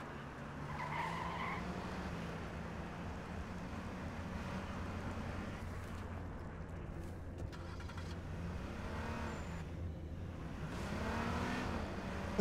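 Car driving in the video game H1Z1, with a steady engine drone throughout and tire skids and squeals sliding in over it, moderately loud with no talking.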